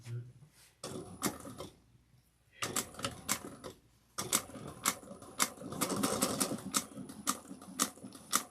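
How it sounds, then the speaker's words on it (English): A sewing machine runs a 1/2 inch seam on an Etol Convertible garment in short, chattering bursts of rapid stitches, close and crisp, with brief pauses and a throat-clearing in between. "you want to sew this at a 1/2 inch too"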